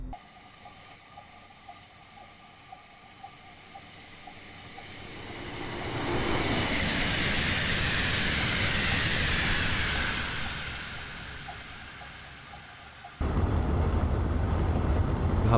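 A Railjet passenger train in Train Simulator Classic, running from St Pölten to Linz, roars past at 200 km/h seen from outside: a rushing rumble swells from faint to loud, holds, fades away, then the ambience cuts abruptly to a louder hum.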